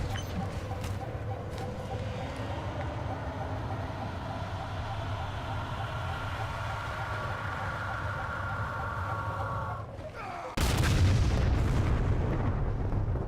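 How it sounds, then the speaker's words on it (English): A bomb goes off in Halo 4, a sudden loud blast that cuts in near the end after a long stretch of steady rumbling game noise, with little speech. "Wow, the bomb sound went off, but I didn't see it explode."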